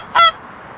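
A single goose lets out one short, loud honk during a North American waterfowl hunt, a brief nasal call that fades quickly into near silence.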